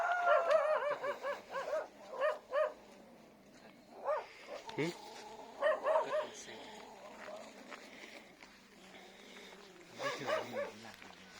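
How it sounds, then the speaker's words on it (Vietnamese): A big dog barks in repeated clusters of loud, close woofs with whimpering between bursts, against an insect-like drone and faint voices talking. "Có chó to"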